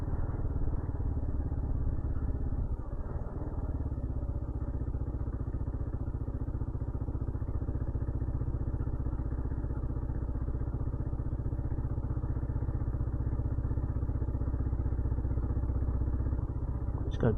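Motorcycle engine running steadily while riding on a snowy road, a continuous mid-pitched drone held at a gentle throttle for the whole stretch, close and fairly loud, with no talking.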